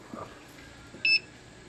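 A pressure canner in a homestead kitchen gives a single short, clear electronic beep, moderately loud against quiet room noise.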